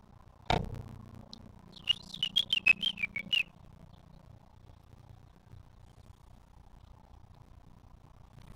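Outdoor birdsong in a quiet open setting where mourning doves, spotted towhees and house finches are present: one sharp knock, then a short burst of clear rapid whistled chirps, fading into faint background ambience.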